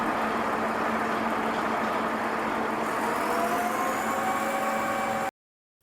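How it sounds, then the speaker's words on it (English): A harbor tugboat's engine drones steadily under wind and water noise, a moderately distant hum whose tone climbs in pitch during the last couple of seconds before cutting off abruptly. "Harbor tugboats."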